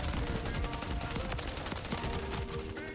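Rapid automatic fire from an ACR assault rifle in Modern Warfare 3, a loud, dense, continuous rattle of shots running through the whole stretch with no talk over it.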